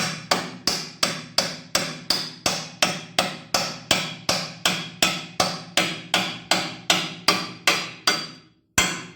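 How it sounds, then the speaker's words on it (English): Hammer tapping a steel axle pin into a 1948 Ferguson TE20 tractor, about twenty evenly spaced metallic knocks at a steady rhythm, close and loud, ending with one last strike after a short gap. "once you get it started, just tap it"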